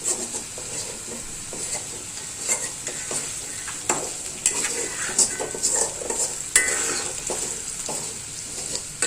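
A banana flower mixture is stirred and fried in a pan, with steady sizzling under repeated scraping strokes and occasional sharper clinks throughout, loud and close with no talking.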